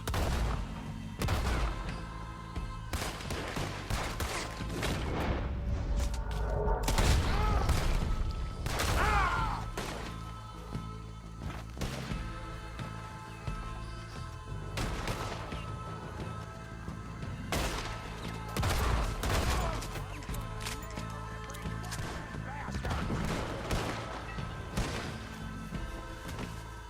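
A Red Dead Redemption 2 gunfight near some huts fills the air with dense, loud volleys of gunshots, cracks and crashing impacts that come in repeated bursts, with only scattered pauses.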